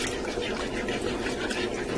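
A cornstarch and water slurry pours into a non-stick pot in a Ninja multi cooker during a roast beef recipe, making a steady, soft liquid splash for about two seconds at close range.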